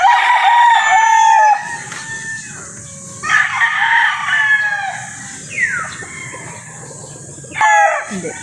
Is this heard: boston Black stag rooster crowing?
yes